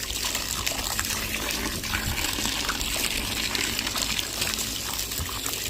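Tapioca roots being washed in water in a pot, a steady close splashing and gushing of water throughout, with no talking.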